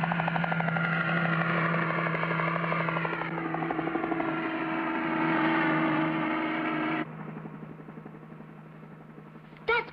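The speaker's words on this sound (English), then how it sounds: "I'll try to catch up to Speed by helicopter." A loud helicopter in the animated series Speed Racer drones and whirs continuously nearby, its tone shifting slightly before the sound changes abruptly and thins out toward the end.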